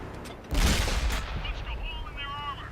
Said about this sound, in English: Good shot into the side of his tank.